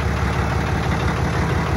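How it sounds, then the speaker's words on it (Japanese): Diesel switcher locomotive idling up close, a steady low rumbling drone with even mechanical throb throughout, loud and continuous with no talk over it. "いや、エンジンかかってるんです"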